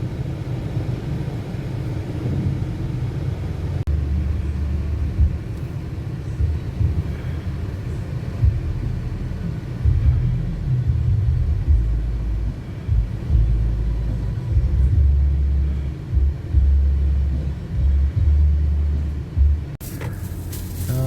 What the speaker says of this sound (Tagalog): Kahit saan po magpunta, traffic po kami.